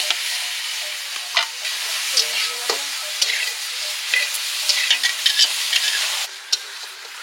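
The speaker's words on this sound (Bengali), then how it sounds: "একদিকে ওই মাংস কষা হচ্ছে" Meat being sautéed with spices in a pan at an outdoor family picnic, a steady sizzle and frying hiss with occasional scraping stirs and small pops, close and continuous throughout.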